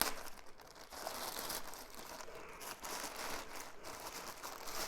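Packaging from an AliExpress parcel crinkles and rustles as it is opened, with a soft, continuous papery crackle that is faint and close.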